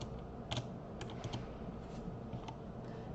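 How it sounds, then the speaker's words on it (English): Computer keyboard typed on in soft, scattered keystrokes over a steady background hiss, fairly quiet and with no talking. "go ahead and just start typing everything in"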